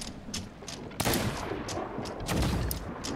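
Heavy cannon fire from ships in the pirate video game Sea of Thieves, with loud booming blasts at about one and two and a half seconds over a constant roar of wind and sea, and smaller reports scattered between them.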